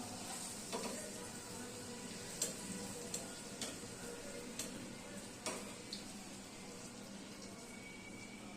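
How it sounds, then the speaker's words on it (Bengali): Dal puri deep-frying in a pan of hot oil: a soft, low bubbling sizzle with scattered sharp clicks and spatters every second or so, fairly quiet and with no one talking. "প্রত্যেকটা পুরি ভাজা হয়ে যাচ্ছে।"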